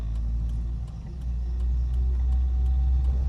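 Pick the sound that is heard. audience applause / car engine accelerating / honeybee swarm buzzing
car engine accelerating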